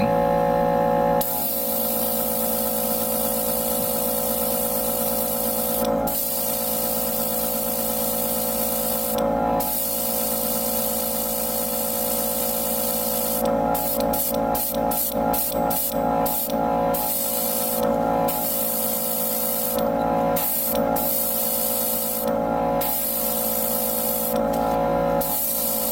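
An airbrush or spray can hisses steadily while coating the thrusters of an HG Unicorn Banshee Destroy Mode Gundam model kit. The spray runs continuously and close, broken by a few brief pauses and a quick series of short bursts, with no talking.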